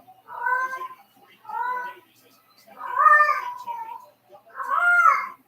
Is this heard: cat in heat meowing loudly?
yes